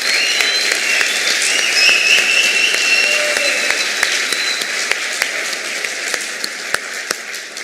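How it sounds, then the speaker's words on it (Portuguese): Applause from an audience at a motivational talk rises into a dense, steady wash of clapping that holds fairly loud, with faint tonal ringing in the room behind it. "uma salva de palmas para vocês"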